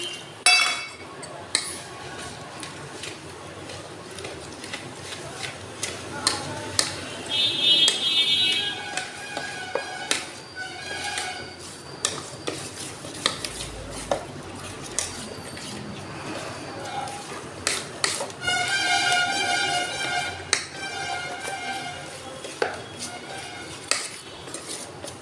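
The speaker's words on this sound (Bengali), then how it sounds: "আমি এটা 1 বাটি জল দেব, দিয়ে ফেটিয়ে নেব।" Dosa batter mixed with yogurt and water is whisked in a bowl, giving irregular clinks, taps and wet scraping of the utensil against the rim. The sound comes nearby and at a moderate level.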